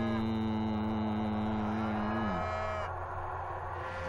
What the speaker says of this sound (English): Hey, there are some cows over there.